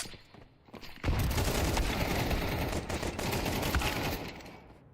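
AK rifle fire in a Counter-Strike match, a dense, loud fusillade of rapid shots that starts abruptly after a quiet second and rattles on steadily for several seconds before fading, with no voices.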